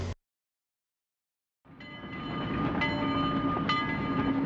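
After a brief silence, a long freight train in the USA rumbles in and builds into a steady, rolling roar with faint rattling and clatter from the cars.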